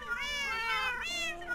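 Cat trophy from the OpenBlocks mod in Minecraft lets out two drawn-out, wavering meows back to back, clear and close with no talking.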